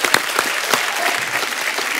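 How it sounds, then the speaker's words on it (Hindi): A TV comedy show studio audience bursts into applause, a dense, even wash of clapping throughout with a few sharper claps near the start. "सच्चे दिल से तालियां।"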